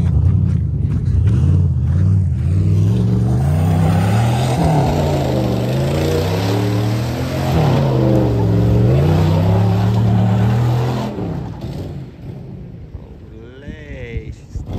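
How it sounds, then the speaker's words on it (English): A Dodge car does donuts, its engine revving hard in rising and falling waves while tires spin, loud and close for most of the stretch before easing off near the end, with voices talking over it. "I'm gonna complete those donuts"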